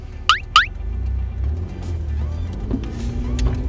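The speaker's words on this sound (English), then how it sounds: "Crossing 2 lanes of highway traffic" A car crosses two lanes of highway traffic, its engine giving a steady low rumble inside the cabin, with two sharp chirping tones near the start and faint passing-vehicle swells later.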